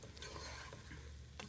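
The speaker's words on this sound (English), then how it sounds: "Nothing smells better, believe me, than onions frying with beef that has been browned." Chopped onions and browned beef fry in a pot and get stirred, a quiet, continuous sizzle with soft scraping movements and a brief sharper scrape near the end.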